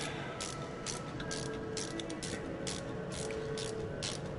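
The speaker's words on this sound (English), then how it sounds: "Ratchet wrenches are just handier than heck for this stuff." Ratchet wrench clicking on the aftercooler bolts of a Cat 3406 diesel engine's turbocharger setup, quick repeated ratcheting strokes in short bursts, faint and close under steady background hum.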